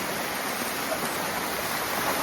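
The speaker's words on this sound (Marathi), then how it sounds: "हे बघा धबधबा, मिनी वॉटरफॉल मध्ये चालत चाललोय बघा." A small waterfall rushes close by in a steady, loud wash of falling water, with no change or pause and no talking.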